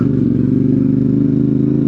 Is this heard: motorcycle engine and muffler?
yes